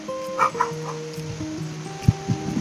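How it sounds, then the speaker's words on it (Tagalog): A dog barks a few times in short, uneven bursts, with tonal, whistle-like background sounds underneath. "Sorry sa aso. Ingay ni Dolpo."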